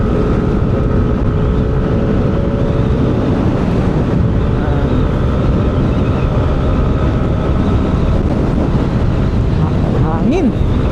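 Loud, constant wind buffeting the microphone on a road ride in Batangas, Philippines, roaring and steady throughout, with engine or road noise beneath and no clear talking.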